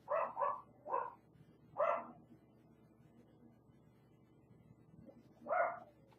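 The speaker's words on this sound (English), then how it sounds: "the dog's gotta start barking" A dog barks indoors, a few sharp barks in quick succession, then a lone bark after a pause, moderately near over a low background hum.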